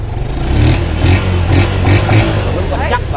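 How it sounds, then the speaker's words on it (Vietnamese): A used motorcycle's engine runs close by with a steady, throaty idle rising in a few mild revs, while someone talks over it throughout. "em sẽ nổ máy cho anh em nghe"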